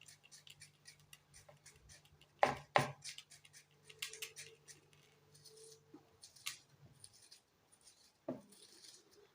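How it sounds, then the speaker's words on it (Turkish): Sharp knife taps on a cutting board chopping onion, a few loud chops then scattered lighter cuts, close and irregular, with a faint hum underneath. "Önce soğanı doğrayayım."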